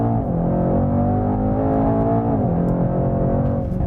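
A Mercedes E63 S AMG E-Class lapping a racetrack, its engine a loud, close, continuous drone that holds steady, dips briefly in pitch as the revs drop, then climbs again.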